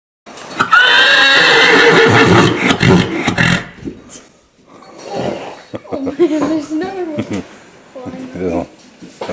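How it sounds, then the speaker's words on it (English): A new horse in a horse barn gives a loud, drawn-out neigh up close, followed by quieter snorts and whinnies as people talk nearby. "So this is the new horse at the horse barn?"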